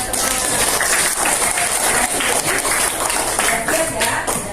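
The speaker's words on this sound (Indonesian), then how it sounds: "tepuk tangan kita semua" Group clapping from a class of students at a school session, a dense steady patter of many hands filling the space with voices mixed in.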